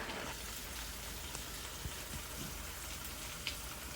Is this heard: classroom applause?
no